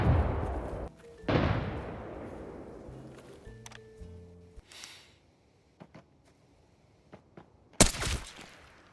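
Gunfire in the shooter game Arena Breakout: a couple of heavy booming shots with long decaying tails, then scattered faint distant pops and one sharp loud crack near the end.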